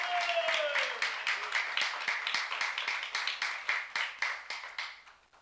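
A congregation claps in rhythm during a church sermon, a run of evenly spaced claps that fades steadily, with a voice speaking briefly over the opening.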